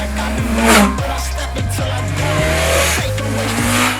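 A loud, close BMW S 1000 RR superbike engine roar with rising and falling revs and sharp gear shifts, continuous throughout with no talking.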